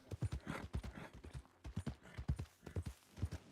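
Horse hooves clip-clopping in the Red Dead Redemption 2 video game, a steady run of close, sharp hoof strikes in an uneven galloping rhythm with no talk over them.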